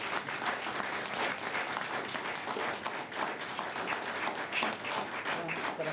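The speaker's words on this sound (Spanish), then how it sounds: "Me gustaría que le demos un aplauso a todos los guardaparques que tenemos en" Audience applause for park rangers at a commemorative anniversary talk, a steady, dense wash of many hands clapping that holds evenly for the whole stretch at modest volume.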